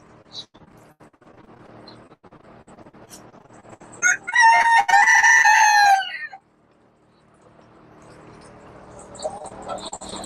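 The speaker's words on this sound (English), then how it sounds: "we're gonna do a little bit of chicken ASMR right now" A rooster crows loudly and close in a barn at feeding time, a sustained harmonic call in the middle, while chickens cluck and rustle quietly before and after.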